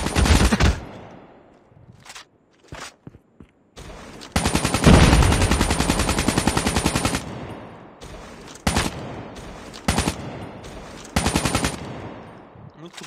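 Gunfire from the KN-44 assault rifle in Call of Duty Mobile: several sharp single shots, then a long sustained automatic burst of about three seconds, followed by a series of shorter bursts separated by gaps, loud and close with no speech.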